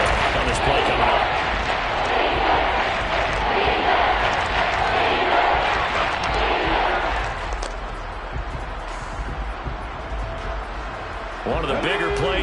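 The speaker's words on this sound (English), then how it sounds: "The crowd getting into it as we come up on a big 3rd down." Crowd roaring in a Madden 23 football game as a big third down approaches, a loud dense stadium wash of cheering and shouting that eases slightly partway through.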